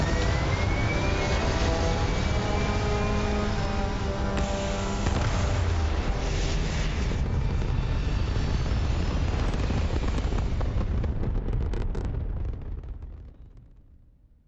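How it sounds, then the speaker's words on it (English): Spaceship engines roar through a Starfield liftoff, a loud sustained rumble with a rising whine layered on top that holds steady, then fades away near the end. "We are cleared for liftoff."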